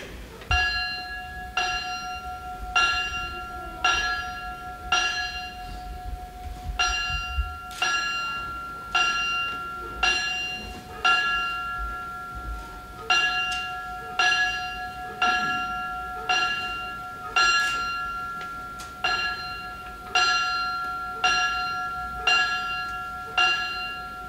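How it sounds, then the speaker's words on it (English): A ceremonial fire department bell strikes twenty clear, ringing tones in four groups of five, each evenly spaced and left to decay, rung at an awards and recognition ceremony in a quiet room. "We will now transmit one single round of 5555 on the ceremonial bell"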